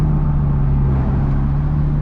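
Lamborghini engine fitted with a straight-pipe exhaust, a steady deep low drone holding a constant pitch, loud and close, with no voices over it.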